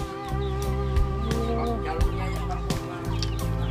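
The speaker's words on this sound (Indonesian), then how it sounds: "Kayak ayam Bangkok ya." A Bangkok rooster clucks in short, throaty bursts close by, repeated several times over a steady background hum.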